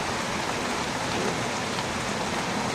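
Heavy rain pours down with wind over a lemon orchard in Subarnachar, Noakhali, making a constant, loud, close hiss that never lets up, with no one speaking.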